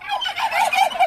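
A turkey gobbles repeatedly close by in a mountain village in the Agara river gorge in Adjara, Georgia: a rapid, warbling run of loud gobbling calls with no voices over it.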